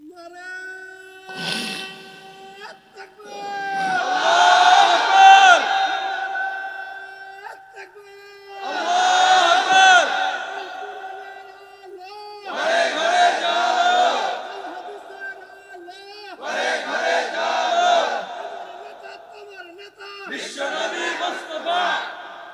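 A large gathering chanting takbir, Allahu Akbar, in several loud unison bursts separated by short pauses, with a single leading voice calling out before the crowd responds.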